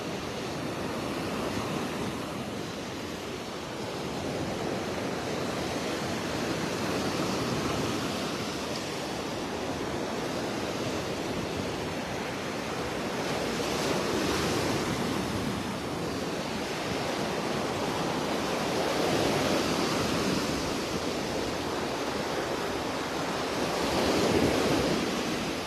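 Steady surf washing onto a beach in North Naples, Florida on a rainy early morning, a continuous broad roar that swells and eases with each wave, with no voices.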